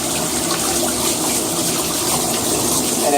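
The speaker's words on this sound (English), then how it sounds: "flush out your valve casing" Steady rushing water gushes through a trombone valve casing being flushed with plain water, a continuous loud splashing flow with no pauses, nearby and alone.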